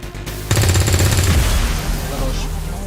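Loud automatic gunfire from the strategy game XCOM 2: War of the Chosen bursts in after a brief pause and rattles on in rapid repeated shots for over two seconds, fading slightly toward the end.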